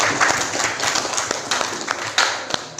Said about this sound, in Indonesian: kita tepuk tangan bersama-sama.